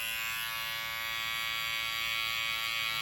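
Hair clippers with no guard and the lever fully open cut hair during a high taper self-cut, giving a steady close electric buzz with a bright whine that holds evenly throughout, with no talking.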